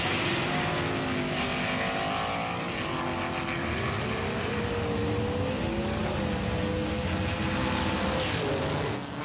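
Race cars roaring around the Mount Western Raceway in a combat racing event, a continuous loud engine drone with rising and falling pitch as they pass close by, no talk.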